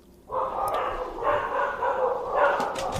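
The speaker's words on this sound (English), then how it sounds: "The hellhounds began to bark." Hellhounds barking in a drawn-out, howling chorus, several sustained yelping calls rising and falling over a low rumble, moderately loud and close.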